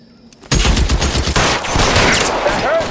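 Gunfire from the L.A. Noire arson-desk mission "Polite Invitation": a sudden loud burst of rapid overlapping shots kicks off and continues as a dense, sustained fusillade close by, with no talk over it.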